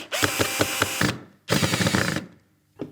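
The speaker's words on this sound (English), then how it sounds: "I'm just gonna drill a hole or screw in there and those two are locked together then." Power drill boring a hole into aquarium hardscape wood to join two pieces: two loud, close bursts of whirring drilling with rattling grinding texture, separated by a brief pause, then a short final burst.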